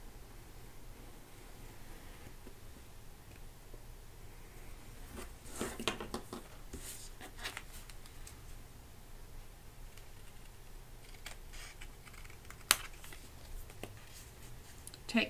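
Excess paper being trimmed from a handmade notebook pocket, soft scattered cutting and rustling sounds with a few sharper clicks over a steady low background hiss, close by and without speech.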